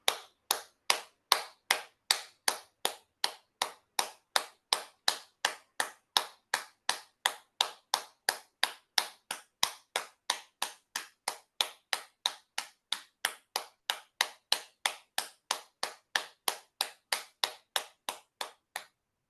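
One person claps hands in a steady, evenly spaced rhythm as a morning exercise, producing dozens of crisp, isolated claps in a quiet room with no talking.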